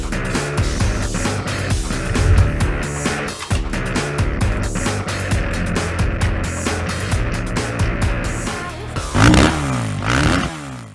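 A 2022 Honda CRF250R dirt bike roars loud and close throughout, its engine note rising and falling as it revs through gears while riding.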